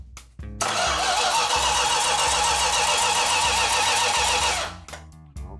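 A Dodge A12 Super Bee's engine cranks on the starter and bursts into a loud, rough, broadband roar that holds steady for about four seconds, then cuts off abruptly, leaving quiet mechanical clicks.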